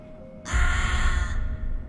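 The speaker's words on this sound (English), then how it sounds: "Those crows aren't afraid of me." Crows caw in the Haunted Hotel 6 video game, a dense, harsh, sustained burst of calls that starts suddenly and fills the scene for about a second, loud and close.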